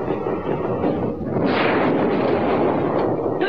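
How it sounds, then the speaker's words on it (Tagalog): Anime explosions in One Punch Man: heavy booming blasts roll together into a loud, rumbling burst that swells midway and keeps churning, with another sharp crack near the end. "may mga pagsabog na nagaganap ngayon"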